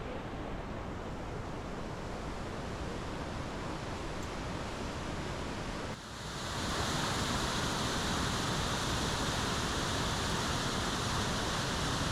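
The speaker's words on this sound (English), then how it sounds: "Anywhere else, this would be considered a huge waterfall, an attraction of its own." Iguazu Falls roars as a steady, loud broadband rush of falling water, unbroken throughout with no voices and a brief dip midway before the roar swells even fuller.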